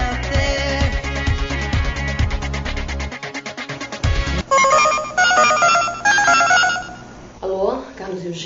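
A telephone rings loudly in a Brazilian soap scene, its repeated electronic ringtone sounding over background music, with voices heard alongside.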